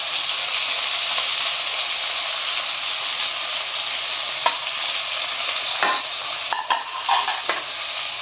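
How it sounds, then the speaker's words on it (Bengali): Big chopped onions frying in hot ghee, a steady close sizzle across the whole stretch with a few stirring scrapes and clinks of a utensil in the pan toward the end; no talk. "ঘিয়ের মধ্যে পেঁয়াজটা দিলে খুব ভালো গন্ধ হয়।"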